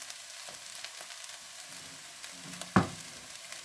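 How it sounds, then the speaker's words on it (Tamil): Rice is tipped into a hot pan for chicken fried rice and stirred. A soft, steady sizzle and scraping continue throughout, with one sharp clank near the end. "இப்போ நாங்கள் இந்த ரைஸ் எடுத்து இதுக்குள்ள சேர்ப்போம்."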